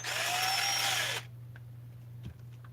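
A power drill whirs loudly, boring a hole into the crankcase of a Husqvarna 346XP chainsaw, a steady high whine for about a second before cutting off, followed by a faint clunk over a low electrical hum.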